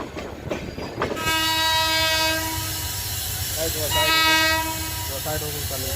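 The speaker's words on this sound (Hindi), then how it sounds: "उतरो, ट्रेन आ रही है" Gorakhdham Express pulling into a station, sounding its horn in two long, loud, near blasts over steady rolling rumble and platform noise.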